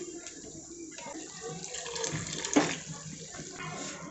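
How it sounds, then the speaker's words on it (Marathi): Hot water pours into a pot of soaked masoor lentils on the stove, a soft continuous splashing trickle with a brief louder gush partway through, fairly close and without voices. "गरम पाणी टाकून घेणार आहोत।"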